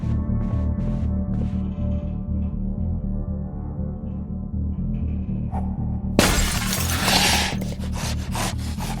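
In Project Zomboid, a thrown drinking glass shatters with a sudden, bright crash partway through, its fragments tinkling briefly over a steady, droning game music bed.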